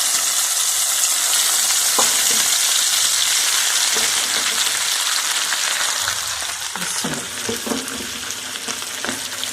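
Mustard greens fry in butter with a loud, constant sizzle and hiss, broken by occasional soft clicks and stirring noises.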